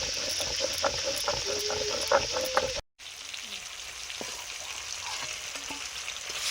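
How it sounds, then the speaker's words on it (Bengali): Fish frying in hot oil in a home kitchen, a steady close sizzle with crackles and light stirring throughout, briefly cut out midway before the frying resumes. "মাছ ভাজা হয়ে গেছে"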